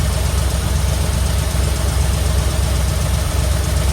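Engine of an old abandoned Ford F100 truck idles steadily with a low, even rumble and a faint knocking pulse, close and loud throughout with no talk.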